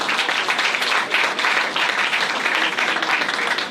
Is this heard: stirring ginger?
no